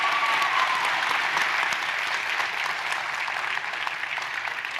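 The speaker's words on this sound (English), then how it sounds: "Can we just give a huge round of applause to Kayla Oteza, please?" Loud, steady applause from an audience at an education awards celebration, with dense clapping holding at an even level from start to finish.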